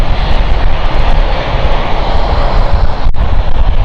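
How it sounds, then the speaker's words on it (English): An aircraft taxiing out at London City Airport, its engine a loud, steady broadband roar that holds continuously close by with no voices over it. "as well as this is taxiing out"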